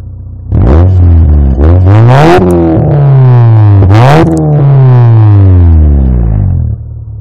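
An Acura car engine revs up hard several times with a deep, throaty exhaust, each rise in pitch loud and close, then settles back to idle, with no talking.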